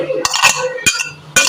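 A spoon stirs sugar into a milkshake, three short bursts of clinking scrapes against the cup, close and fairly loud, with quiet pauses between.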